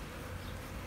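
Honeybees buzz in a steady, dense drone with no breaks, fairly close and even in loudness throughout.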